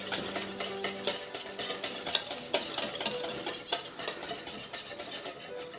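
Egg mixture being whisked as hot milk is ladled in for a vanilla custard, quick rhythmic clinks and swishes of a whisk against a bowl, close and fairly soft, with no speech.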